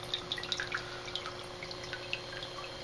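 Small water drops fall quickly from a Puratek RODI filter in an irregular patter of faint, close drips over a soft background hum.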